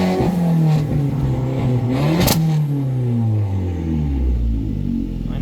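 A EuroDrive car engine revs up sharply and then winds down smoothly, loud and close, with no crackles, pops or burbles on deceleration.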